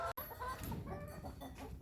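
Chickens cluck inside a hen house, a busy, fairly faint mix of overlapping clucks and calls with a brief gap near the start.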